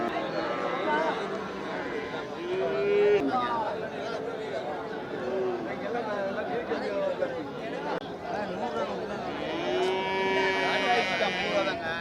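Cattle low and moo at a busy cattle market, a few drawn-out calls rising over steady crowd chatter and nearby talking throughout.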